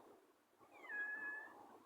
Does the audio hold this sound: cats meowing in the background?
yes